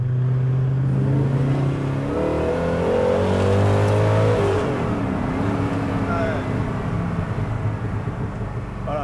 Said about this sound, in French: Quand on accélère, ça accélère très très fort.